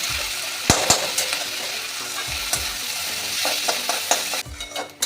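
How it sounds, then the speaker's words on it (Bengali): Washed Gobindobhog rice fries with cumin seeds in a pan, a steady sizzle broken by repeated scraping stirs and light clinks of the spoon against the pan, close and clear. "গোবিন্দভোগ চালটা আমার ভাজা হয়ে গেছে এইভাবে ভেজে নিয়েছি"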